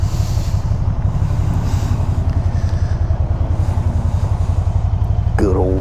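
A 1989 Honda GB500TT motorcycle engine idles with a steady, even low thumping pulse close by, joined near the end by a brief higher chirping sound.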